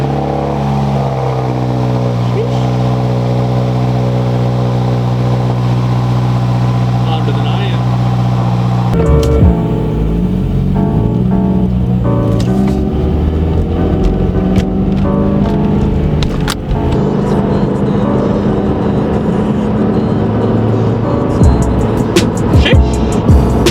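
A 2019 Subaru WRX on the drive to a hardware store hums along steadily from inside the cabin, with engine tone shifting between gears and occasional road bumps and clicks.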